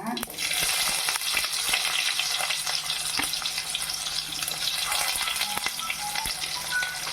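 Mustard seeds spluttering and onion frying in hot oil for Kadapa kurma, a steady close hiss with scattered sharp pops and crackles throughout, no voices.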